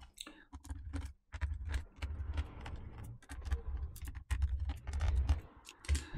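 A Phillips #0 screwdriver works screws out of the bottom panel of a Dell Inspiron 13 2-in-1 laptop, giving close, faint clicks and ticks in a steady, broken rhythm.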